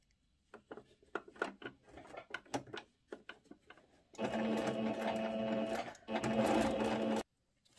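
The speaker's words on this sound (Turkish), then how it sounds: "Lastiği geçirdikten sonra şu şekilde değil de bu şekilde üzerine iki taraftan dikiş yapıyoruz" A home sewing machine stitches elastic into a skirt waistband: first scattered clicks and handling taps, then two steady close bursts of rapid whirring stitching separated by a brief pause, with no talking.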